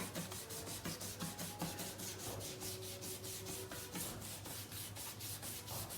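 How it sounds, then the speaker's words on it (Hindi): A toothbrush scrubs greasy grooves on a kitchen cabinet in quick, steady back-and-forth strokes, a close, rhythmic scratchy rubbing with no talking. "इसके अंदर आपने ये वाला टूथ ब्रश मारना है"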